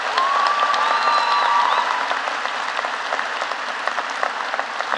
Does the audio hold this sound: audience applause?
yes